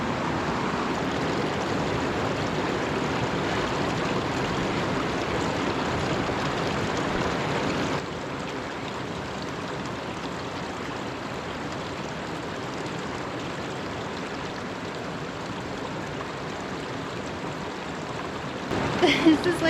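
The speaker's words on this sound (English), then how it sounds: "You have the warm water coming through here and it's mixing with the cold river water." Cold river water rushing and mixing with warm inflow at an Idaho hot spring, a steady broadband wash that drops a little in level partway through, with a brief splashy disturbance near the end.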